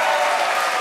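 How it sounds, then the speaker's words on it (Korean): An audience gives dense, even applause at a live Korean traditional music concert, a close, loud wash of many hands clapping with no distinct individual claps. "박수 좀 보내주십시오"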